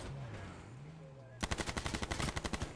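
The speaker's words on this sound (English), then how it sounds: "And Blue's taking shots with his rifle" Rapid burst of rifle fire in the video game H1Z1, about ten sharp evenly spaced shots in quick succession, loud and close, following a stretch of quiet ambient game sound with a low hum.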